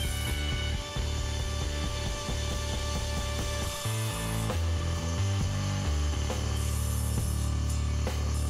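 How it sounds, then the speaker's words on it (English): A table saw with its blade tilted cuts a chamfer along a wooden clock piece, the motor whine holding steady as the blade bites slowly through the wood, with no voices. "set my blade to something around 15 degrees, and I crawl up until the cut reaches my marked line"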